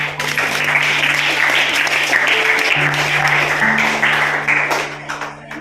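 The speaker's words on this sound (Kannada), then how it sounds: "ವೆರಿ ಗುಡ್, ಚಪ್ಪಾಳೆ" Classroom of children clapping for a correct quiz answer, dense continuous applause filling the whole stretch, loud and close, with a low electrical hum beneath.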